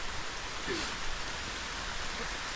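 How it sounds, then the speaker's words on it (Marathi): Steady, dense rain hissing down on surfaces, a constant wash of noise with no breaks. "पाऊस आला जास्त."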